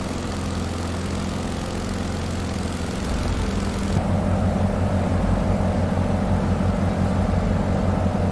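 Old propeller aircraft engine in Microsoft Flight Simulator, a steady loud droning hum with a throbbing low pulse that deepens and grows slightly louder partway through, continuous throughout with no voices.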